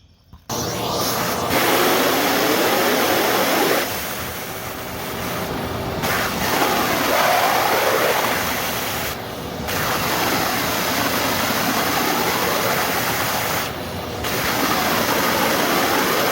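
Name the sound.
shop vac running while winterizing pool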